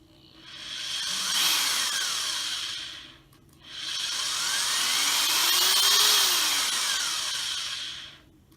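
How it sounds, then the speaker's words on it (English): A cordless drill powered by a 300W portable power generator whirs up to a high-pitched whine twice, with a short pause between the two long runs. "let's see what happens when we start to use the drill and rev it up"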